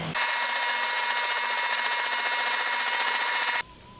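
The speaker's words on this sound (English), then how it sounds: "I'm turning my new yoke for my shovel arm" A steel yoke pin for an excavator shovel arm being turned on a lathe, a steady loud high-pitched cutting whine held for over three seconds before cutting off to a quieter motor hum.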